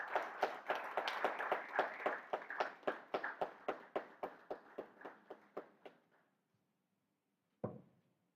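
Hand clapping greets the keynote speaker at a youth democracy forum at Wisconsin International University College in Ghana: about twenty sharp, evenly spaced claps, faint and slowing as they fade, followed by one lone clap after a pause.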